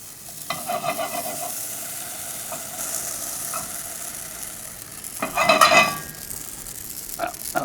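Amaranth grain popping and sizzling in a hot lidded pan, a steady crackling fry that swells into a burst of dense rapid pops near the end, with a few scattered pops after.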